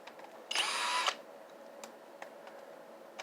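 A short, loud burst of a power drill unscrewing a screw from a scrapped keyboard, whirring for about half a second, then quiet with a few faint clicks.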